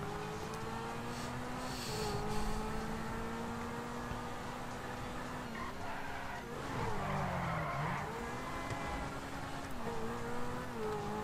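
A sports car engine in GTA V drones steadily with shifting revs, punctuated by tire squeals and skids, synthetic and continuous.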